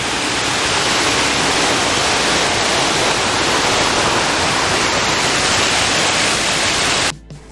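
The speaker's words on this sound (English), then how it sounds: "Here's a really nice cascade." A cascading waterfall on the Appalachian Trail in North Carolina roars loud and close as a dense, unbroken rush of water that cuts off abruptly near the end.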